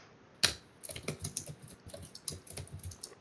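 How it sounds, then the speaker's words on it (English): Computer keyboard typing, a sharp first keystroke followed by a quick irregular run of clacking keys, close and alone. "Now you can hear your keyboard."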